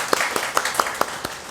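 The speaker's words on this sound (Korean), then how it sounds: "우리 하나님께 감사의 박수를" Church congregation clapping in thanks during a Korean Sunday service, a few distinct nearby claps over a dense bed of steady applause, fairly loud throughout.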